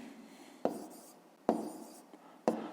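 A maths answer is handwritten on paper, a few short pen strokes in sparse bursts, close and quiet, with no talk.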